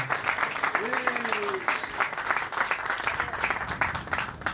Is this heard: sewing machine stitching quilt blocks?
no